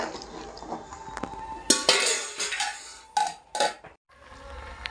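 Washed elephant foot yam pieces drop into a pot of hot water on a gas stove, giving a few clinks and knocks against the metal with faint sloshing, close and moderately loud.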